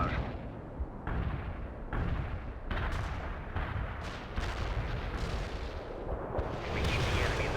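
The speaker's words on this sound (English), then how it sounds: "Launching a barrage." Artillery barrage in the real-time strategy game World in Conflict: a rolling series of heavy, booming impacts, one after another at roughly one-second intervals, loud and dense with rumbling low end throughout.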